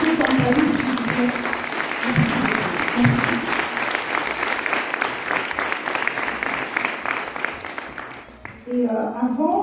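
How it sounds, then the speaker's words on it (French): Dense, rhythmic clapping from an audience fills the room, holding steady before fading out as a voice briefly speaks at the end. "Est-ce qu'on peut l'applaudir?"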